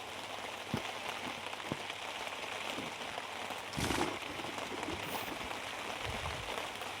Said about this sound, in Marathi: वारं आहे, पाऊस बी आहे.